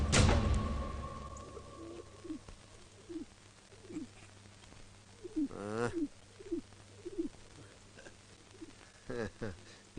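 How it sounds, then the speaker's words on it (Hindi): A pigeon coos in a rural village scene from a 2003 Hindi action film, giving a series of short, hollow, rising coos spaced through the stretch, with faint voices and low background hum underneath. "ये पंछी ससुरा अमरपुर से उड़कर आया लगता है।"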